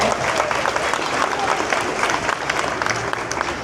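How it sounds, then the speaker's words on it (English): A theme-park audience at a bird show in Disney's Animal Kingdom applauds a volunteer with steady, lively clapping from a large crowd, mixed with some voices. "Big round of applause for our volunteer"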